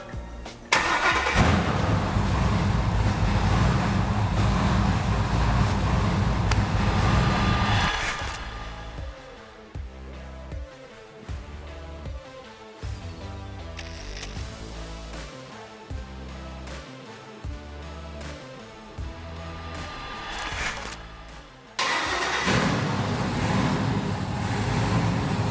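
A car engine cranks and fires up after a wiring harness conversion, then runs loud and steady with a rough idle. It revs and settles before roaring strongly again toward the end.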